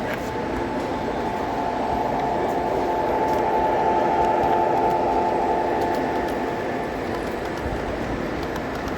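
A continuous rumbling hum with a steady mechanical tone from an O gauge model train running along its track at a model railroading show, constant and moderately close.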